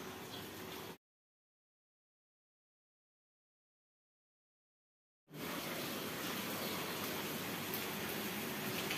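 Sprinkler spraying water, a soft steady hiss like light rain, heard briefly at the start, then cut to silence for several seconds before resuming as a continuous wash.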